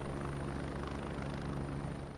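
A military training helicopter at Naval Air Station Whiting Field gives off a steady, continuous rotor and engine drone at moderate level, with no talking.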